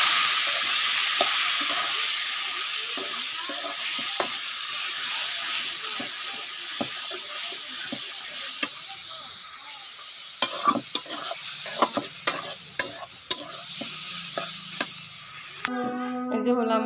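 Leafy greens stir-fry in a hot kadai with a continuous hissing sizzle, then a series of clattering stirs and scrapes in the second half, followed by a short burst of voice at the very end.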